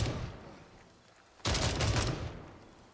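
Gunfire in the video game Gray Zone Warfare, a sharp burst of rapid shots erupting after a fading echo, loud and close before trailing off.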